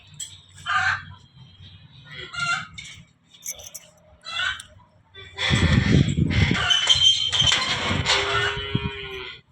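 Chickens cluck in a cattle shed alongside native cows, with loud close mooing, short clucks and fowl calls scattered across the scene and a person talking briefly.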